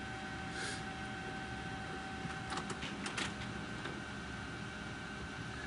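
A basement LaserJet printer runs a CUPS test page, giving a steady mechanical hum with a few quick clicks and paper-feed rustles partway through, heard faintly and close.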